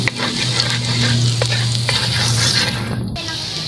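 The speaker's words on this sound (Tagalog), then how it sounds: "Lagay po yung bawang. Ano po. Haluin po mga ka-team." Garlic sautés and is stirred in a pan, a steady close sizzle with the scrape of a utensil running through it, then a brief pause near the end before the frying resumes.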